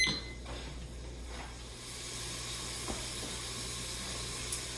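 Bratwurst, bacon and onions in a one-pot quick cooker, giving a quiet, steady sizzle of frying that carries on evenly with a couple of faint ticks.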